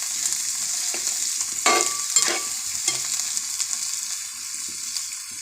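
Sliced onions sizzle and fry in a pot for a Kerala-style beef curry, a steady close crackle broken by a few louder stirring scrapes, with no talk.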